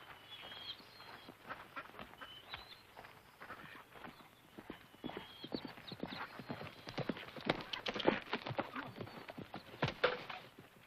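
A posse of horses rides off, hooves clip-clopping faintly at first and then building into a busier, louder clatter of many hooves, with occasional snorts and background chirps, no speech.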